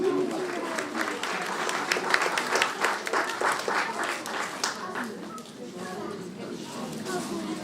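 A crowd applauds at the 40th anniversary celebration of a Korean language school in Düsseldorf, a dense, steady clapping that carries on for several seconds and eases slightly near the end.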